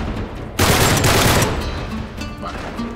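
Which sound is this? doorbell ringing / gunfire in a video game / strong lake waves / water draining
gunfire in a video game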